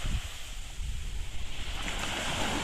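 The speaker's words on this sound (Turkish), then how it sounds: "Biraz hafif dalga var." Light sea waves wash onto a beach at Yumurtalık on a calm November day, a steady broadband surf wash with wind noise buffeting the microphone throughout, no voices.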